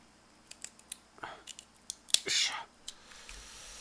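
Kitchen scissors snipping through cooked lobster shell at a table, a series of sharp, faint clicks and crunchy cuts spread irregularly, with one louder crackling cut near the end and soft mouth sounds.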